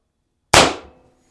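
A single sharp shot from a .68 caliber paintball marker fitted with a Pistelle barrel and suppressor kit, a loud close crack that decays quickly into silence.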